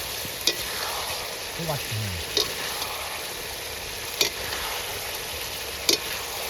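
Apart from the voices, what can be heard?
fish being fried and stirred in spice masala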